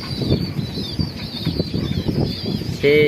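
An Art Angel pigeon beats its wings in quick repeated flutters close by, a busy run of flapping that ends in a brief tonal sound.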